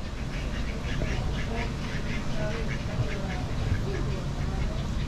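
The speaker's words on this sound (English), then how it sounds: "the duck thinks he's getting some free lunch" A duck at Zoo Tampa at Lowry Park quacking in a run of repeated nasal calls, moderately near, amid crowd noise and people talking.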